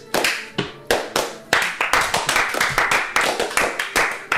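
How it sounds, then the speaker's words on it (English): A small group of people clapping in uneven bursts, sharp near slaps repeating roughly twice a second, with a brief murmur of voices mixed in. "Actually, they're clapping."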